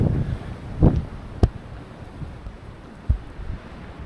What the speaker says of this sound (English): This is where it gets windy.